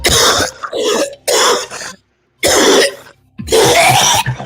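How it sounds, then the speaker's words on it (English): A person coughs repeatedly in harsh, loud bursts, four or five close together with short pauses between them, up close and with no talking. "He's trying to think if I cough like that"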